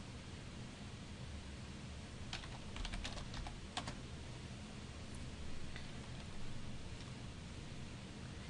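Quiet keystrokes on a computer keyboard while entering a command in a Linux terminal, a short burst of clicks amid steady background hiss, followed by a couple of isolated taps.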